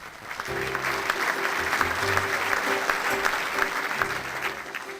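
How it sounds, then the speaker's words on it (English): Audience applause after a speech by the president of the Chicago Transit Authority, steady full-room clapping starting abruptly and continuing evenly, with faint voices underneath. "Give him a round of applause."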